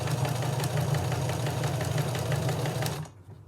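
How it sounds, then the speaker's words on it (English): A sewing machine stitches quilt fabric in a steady, close, continuous mechanical hum and rapid rattle, stopping abruptly near the end. "Sew again until I get to the other corner, keeping my pressure foot equal with the end of the fabric."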